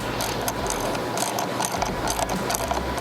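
A ratchet clicks in quick, steady bursts while tightening a battery cable terminal on a Jeep 2.0T, close and fairly quiet against a low mechanical hum.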